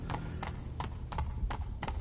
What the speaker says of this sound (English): We can ride the horse in